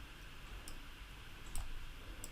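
Sharp computer mouse clicks, a few spaced taps while working in Affinity design software, quiet and close over a low room hum.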